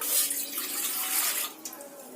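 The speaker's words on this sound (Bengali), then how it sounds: "এক কাপ জল দিয়ে দিলাম" A cup of water poured from a cup into a pot while making pitha, a steady splashing stream that thins out near the end, with no talk over it.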